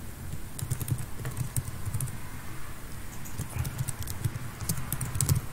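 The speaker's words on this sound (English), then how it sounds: "I'm just gonna type" Computer keyboard keys tapped in irregular bursts of clicks at close range, a steady patter of typing while a name is entered during music software setup.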